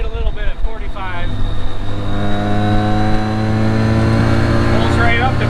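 A Jeep accelerates gently from about 45 to 50 mph, its engine drone rising steadily under wind and road noise inside the cabin, with people talking over it at first.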